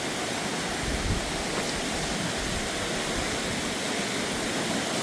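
A flooded creek swollen by Hurricane Helene rushes past in a loud, unbroken roar of churning water, steady and close with no voices.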